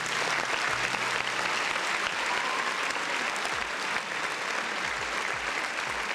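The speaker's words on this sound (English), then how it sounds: "Round of applause, man." A round of applause from a crowd, dense and loud steady clapping that holds for several seconds without letup.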